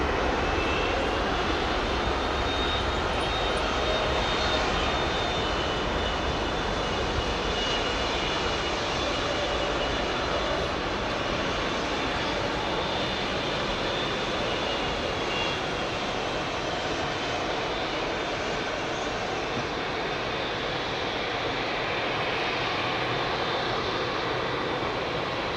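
Airliner departing Heathrow from runway 09 left, a long, sustained jet roar at a steady level with a faint high whine running through it and no talking.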